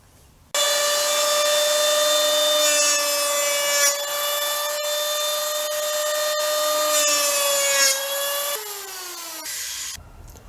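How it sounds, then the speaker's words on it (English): An electric planer makes three passes along the rough edges of a scrap-wood table top, each a loud, steady high-pitched whine with a cutting roar. The passes run back to back with short shifts in pitch, and the motor winds down at the end. No one speaks. "that was just 3 swipes with the electric planer"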